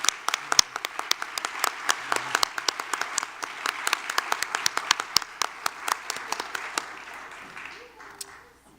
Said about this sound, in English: let's give them all a round of applause as they exit the stage